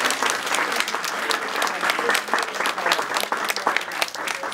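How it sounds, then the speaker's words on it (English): Sustained applause from an audience at an Armenian Genocide centennial museum display talk, dense and steady clapping from a crowd throughout, fairly close, with faint voices mixed in. "Let's give Marianna a big round of applause"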